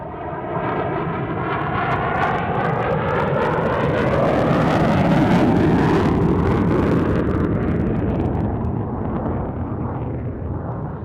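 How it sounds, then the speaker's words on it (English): F-16 Viper fighter jets at Tucson airport, a loud sustained roar of jet engines that swells and slowly shifts in pitch as the aircraft pass, close and overpowering. "More F-16s right now."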